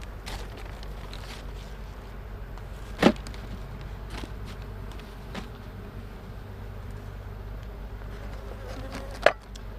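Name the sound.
honeybees buzzing at an opened hive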